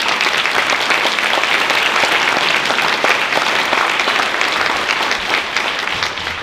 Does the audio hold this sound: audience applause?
yes